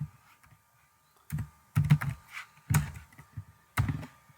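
Computer keyboard keys pressed for a Ctrl+Enter page-break shortcut in Microsoft Word, a few sharp clicks and clatters close by, in short separate bursts with quiet gaps between them and no talk.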